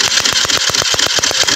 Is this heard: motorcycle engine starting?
yes